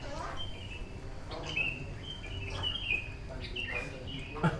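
Sooty-headed bulbul (kutilang) singing outdoors, a few clear repeated chirping phrases at moderate distance over steady background noise and low rumble.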